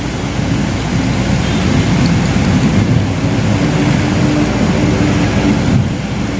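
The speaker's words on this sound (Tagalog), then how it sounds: "Lakas talaga ng ulan dito." Heavy rain pours in a steady, loud, broadband wash with a deep rumbling undertone, continuous and close throughout with no voices.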